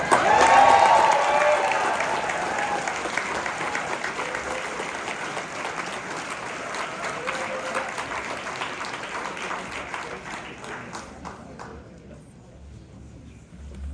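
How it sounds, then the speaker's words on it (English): Crowd applause and some cheering at a Stop Elon Musk rally in Louisville, loudest at the start, then a long steady roar of clapping that gradually thins and fades out near the end, with voices mixed in. "Let's give her a round of applause"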